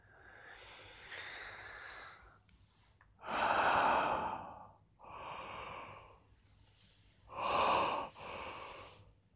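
Slow, deep breaths during a yoga session, close and soft, with a long hiss-like exhale, quieter airy breathing, then another full, audible exhale.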